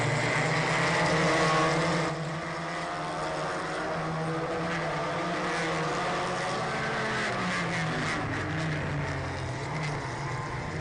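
Race cars in a Polo Cup circuit race drone steadily past on track, overlapping engine tones rising and falling in pitch at moderate distance, louder at first and then settling into a continuous hum.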